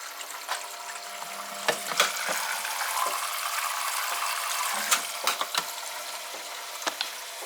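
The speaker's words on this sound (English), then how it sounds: "It's taking on water." A Dyson Contrarotator CR01 washing machine fills with water during an 85-degree cottons wash, a steady hissing, trickling inflow with small clicks and knocks from the machine.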